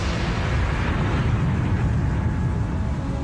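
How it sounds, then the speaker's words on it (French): Supernova explosion effect: a sustained, loud, rumbling roar with heavy low-end energy, steady and uninterrupted like a massive continuous blast. "elle risque d'exploser en supernova de type 1"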